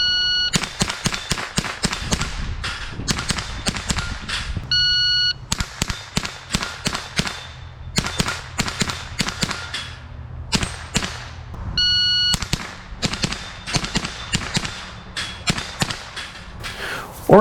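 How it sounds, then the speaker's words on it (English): Rapid shots from a .22 caliber 10/22 rifle fitted with a red dot sight on steel challenge targets, heard as sharp cracks in quick strings, with faint ringing clangs from the steel plates and short pauses between strings. "This rifle is at home with a red dot on it, shooting steel challenge targets like this."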